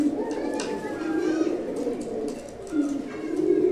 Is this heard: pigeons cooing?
yes